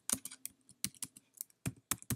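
Quick, irregular keystrokes clatter on a computer keyboard, close up, in short bursts with brief pauses between them.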